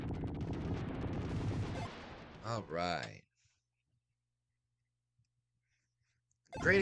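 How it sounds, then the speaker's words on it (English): Explosions and gunfire from the Super Nintendo game Assault Suit Vulcan burst out in a dense rattling barrage, then a few sharp blasts follow before a silence and a final loud hit. "Great explosions."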